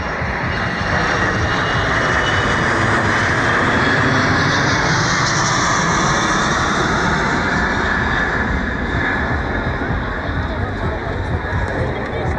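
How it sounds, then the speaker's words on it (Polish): An Embraer passenger jet in LOT Polish Airlines livery runs its engines up close at an airfield, a loud, steady broadband roar that persists throughout. "tak nam się prezentuje samolot w barwach naszego narodowego przewoźnika"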